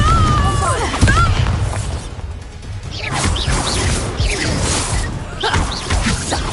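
Fire spell explosions from combat in the Hogwarts Legacy video game, a string of crashing, whooshing blasts and thuds packed closely together, loud and busy, with brief voices mixed in.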